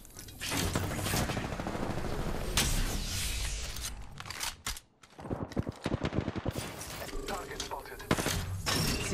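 Apex Legends battle with sustained weapon fire: rapid volleys, thuds and clattering layered with a voice talking over the action, a brief near-silent gap midway, then renewed heavy shooting.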